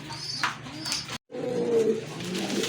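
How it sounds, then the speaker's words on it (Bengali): Racer pigeons give low, throaty coos up close, a couple of soft rolling calls broken by a short silent gap, with some faint background noise. "অনেক সুন্দর কবুতর, অনেক হেলদি কবুতর"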